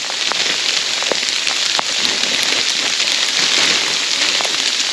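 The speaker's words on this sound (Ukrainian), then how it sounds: "Холодний ледяной дощ почався." Steady, heavy, cold icy rain pours down continuously in the Carpathian mountains, with close drops pattering sharply on a hard surface throughout.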